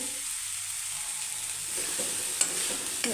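Tomatoes for a Punjabi-style aloo matar curry frying in a pan, a constant close sizzle joined in the second half by light stirring scrapes and a couple of sharp clicks of a utensil against the pan.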